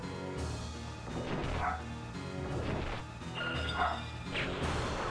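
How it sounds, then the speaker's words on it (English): A household dog barking repeatedly indoors, a run of medium-loud woofs and yips spread across the stretch with short gaps, sounding somewhat distant and free of talk. "my parents' dog has been barking throughout the entire time I had to read that monologue"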